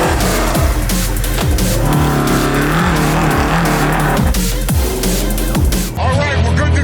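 A 1980 Chevy Blazer prerunner truck, nicknamed Big Red, revs and roars on a dirt test lap, loud close engine surges rising and falling repeatedly, ending in a sudden cut.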